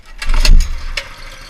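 A Motovox mini bike with a swapped small engine starts on the first pull: a sharp cranking burst that catches into a loud, close sputter, then settles briefly, heard alone.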